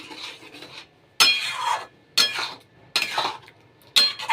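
Spices and potatoes stir-fried in a pan, four distinct bursts of a metal spatula scraping and clinking against the pan, separated by quieter gaps with a soft background sizzle, close by, without speech.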